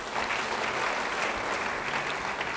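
A church congregation claps for a preacher during a sermon, with dense, continuous applause at an even level throughout.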